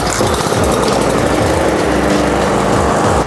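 A walk-behind lawn mower engine runs steadily after its drive belt has been repaired, a loud, close, continuous buzzing drone that holds without pause, with no voices.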